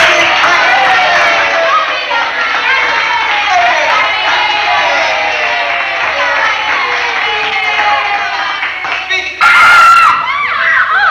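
A large crowd at a Muhammad Ali training session shouts, screams and cheers continuously, high-pitched and loud, with a sharp burst of noise near the end.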